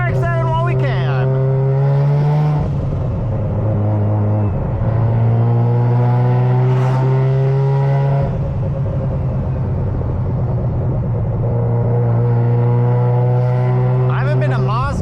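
A Mazda RX-7 rotary engine drones steadily up close through repeated rev changes and gear shifts, loud and continuous, with speech-like tonal layering on top.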